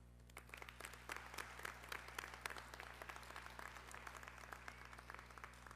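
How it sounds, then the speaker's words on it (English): Sustained applause from a crowd, dense steady clapping that continues at an even level throughout without any talking. "So I do want to give them a big round of applause."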